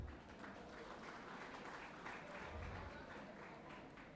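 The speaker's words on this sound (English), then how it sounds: "A big round of applause for Father" An audience at a college graduation ceremony applauds with a continuous, even wash of clapping that sounds fairly distant and soft, with no break for the whole stretch.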